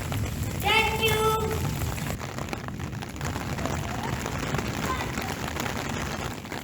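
Steady summer rain falls in a continuous soft hiss, with a faint distant rumble underneath, while voices talk briefly over it near the start.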